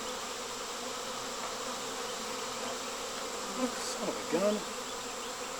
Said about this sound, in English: A lot of bees, though.